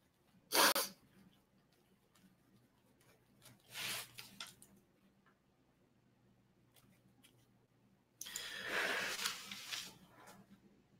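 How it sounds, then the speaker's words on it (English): A single sharp sneeze bursts out near the start of a quiet room recording, followed by a fainter sniff or rustle and later a longer breathy noise, with near silence between. "thought I had to sneeze there."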